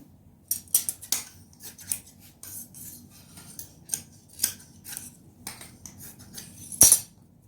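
Scissors snipping through a waste piece of cloth, a series of sharp, close crisp cuts in an irregular rhythm with quiet pauses between, one louder snip near the end, no speech.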